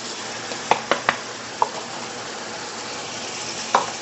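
Chopped onions dropped into a hot pan of browning beef and pork for a bolognese, a steady sizzle throughout with a few sharp clinks and stirring knocks scattered across it.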